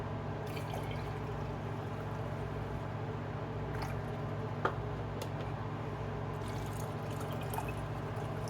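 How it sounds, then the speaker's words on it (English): Water poured from a pitcher into glass canning jars while canning split pea and ham soup: a steady, soft, continuous stream runs throughout, with a faint clink near the middle and no talking. "I am going to go ahead and fill the rest of these jars up with water"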